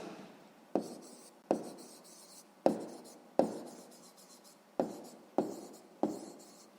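A pen writes out a sixth-grade math solution on paper in a series of separate scratchy strokes, each one starting sharply and then fading. The sound is close and quiet, with no voices.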